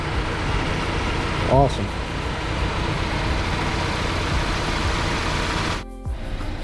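A 2018-2021 Honda Accord 2.0T with a PRL 3-inch front pipe idles with a steady low rumble, while a person speaks briefly over it.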